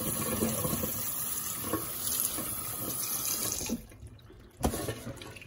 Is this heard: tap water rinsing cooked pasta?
yes